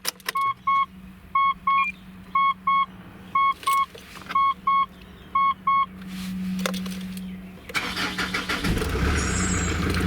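Mitsubishi Pajero after a starter battery swap: a run of regular electronic beeps and a short key or door chime, then the engine cranks and catches, settling into a steady idle at close range.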